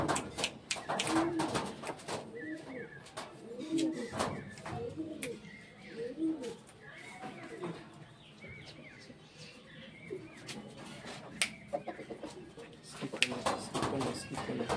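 Pigeons coo softly and repeatedly inside a loft, with scattered chirps, wing flutters and handling clicks beneath ongoing talk.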